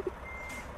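Reversing beeps from a Mack Anthem truck backing up in a PC truck-driving game, a couple of short, close tones right at the start over a steady low engine rumble.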